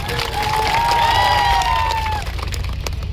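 Crowd at a political rally bursting into loud applause and cheering, dense clapping mixed with shouts and a high whistling cry, sustained throughout and easing slightly toward the end.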